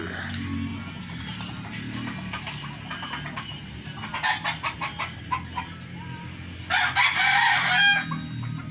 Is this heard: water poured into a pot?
no